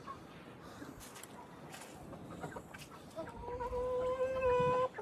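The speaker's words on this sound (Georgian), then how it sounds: "შევიდნენ ქათმები." Chickens clucking on a Georgian farm where winter wheat has been sown, several birds calling in short bursts that grow louder and closer toward the end, with some low rustling and faint voices in the background.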